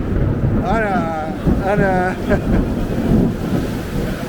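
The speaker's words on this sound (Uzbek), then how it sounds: "Albatta gulduros, chaqmoqlar hammani qamrab oldi." A heavy thunderstorm downpour in Malaysia makes a steady, dense roar of rain throughout, with a person talking and exclaiming over it.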